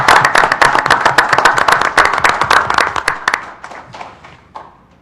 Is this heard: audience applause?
yes